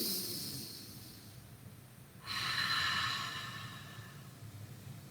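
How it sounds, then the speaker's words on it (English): A person doing a chair yoga breathing exercise, a soft airy breath followed by a forceful, sustained exhale through the nose, like fogging a mirror, that gradually tapers off, close and quiet. "Exhale, fog up your mirror."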